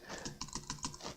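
Close typing on a computer keyboard while setting up an Intel NUC mini PC: a short burst of quick, crisp key clicks in an uneven rhythm.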